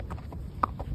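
Horse hooves clip-clop on the ground during riding training, several steady, fairly close footfalls in a quick rhythm over a low background rumble.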